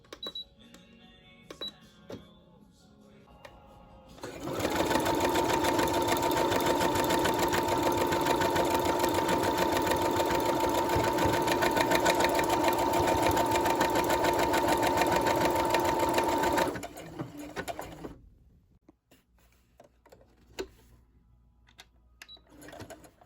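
A sewing machine stitching through a scrap of fabric runs in one steady, loud whirring burst of about twelve seconds, with quieter handling noises before and after.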